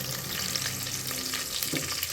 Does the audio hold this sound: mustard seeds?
yes